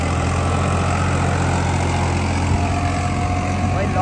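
A Farmtrac 45 Powermaxx 50 hp tractor engine runs in a field of hard-packed soil, producing a steady, close, low mechanical drone that holds constant throughout.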